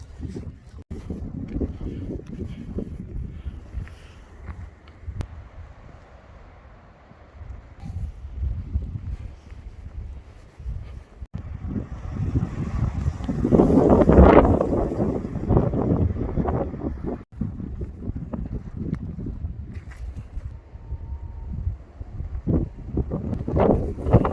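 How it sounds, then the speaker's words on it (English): Steady coastal wind at Boddin Point, Scotland, buffeting the microphone outdoors, with gusty low rumble rising to a stronger blast midway before easing back. "It's quite windy, but you would expect that on the coast anyway."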